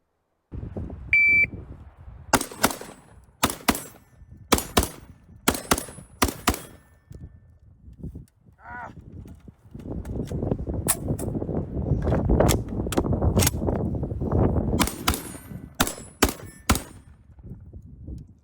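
Sharp, loud gunshots crack out in quick timed strings from a pistol on a range, broken by a pause for a magazine reload, with shot-timer beeps and a stretch of rustling background noise between strings.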